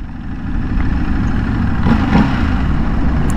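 A 2023 Ducati Desert X motorcycle engine idles and revs in a steady, loud low rumble, swelling briefly near the middle, with no talking.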